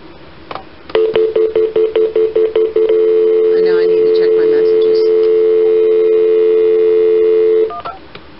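A landline telephone dials Senator Ron Wyden's office: about a dozen quick keypad tones beep in steady rhythm, then a long, loud continuous ringback or line tone holds for several seconds before cutting off.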